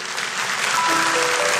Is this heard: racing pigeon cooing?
no